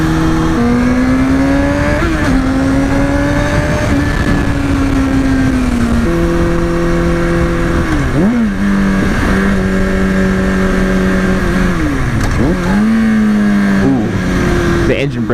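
A 2005 Kawasaki ZX6R 636 sport bike engine revs loud and close, its pitch climbing through several gear changes with brief dips between shifts, under steady wind rush.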